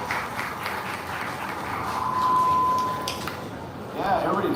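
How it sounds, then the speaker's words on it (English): An audience at a stage event applauds, a broad wash of clapping that swells in the middle and fades, with a voice speaking over it. "Big round of applause."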